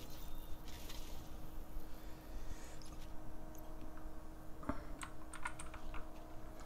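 Computer keyboard typing during a Fortnite gaming livestream: steady, close clicking keystrokes in irregular bursts over a faint hum, with a few sharper key taps and no talking.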